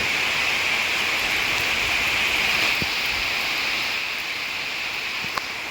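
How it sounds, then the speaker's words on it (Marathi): Dense, steady hiss of heavy rain pouring down without a break, loud and constant, with no voices. "इकडे कळणार पाऊस पडतोय"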